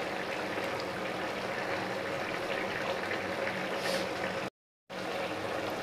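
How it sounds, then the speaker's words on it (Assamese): A curry of wallago fish and ash gourd boiling in a pot, giving a steady, close bubbling hiss that runs on without a break apart from one brief silent dropout. "চাওকচোন কিমান ধুনীয়াকৈ উতলিছে।"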